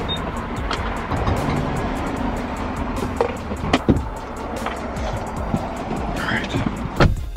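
Car driving on a road with a steady low rumble of engine and tires and occasional bumps and clicks inside the cabin, while a person talks.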